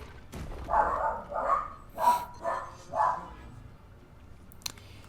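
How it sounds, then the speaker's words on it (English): Dogs bark in a rapid series of about five sharp barks close by, then the room falls quiet. "Oh goodness, my dogs are ruthless."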